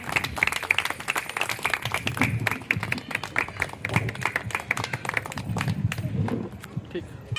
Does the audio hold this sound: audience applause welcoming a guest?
yes